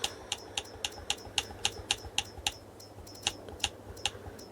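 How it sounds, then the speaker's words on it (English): Xbox game controller buttons click in a quick, fairly regular series of sharp, light taps during Farming Simulator 22 play, close and fairly quiet, with a short pause partway through. "Can hear the controller clicking away"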